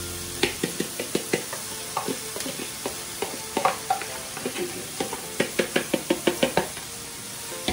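Four cups of washed rice stirred and fried in oil with onion over high heat, a steady sizzle under repeated close scraping knocks of a spoon against the pan in a quick, uneven rhythm.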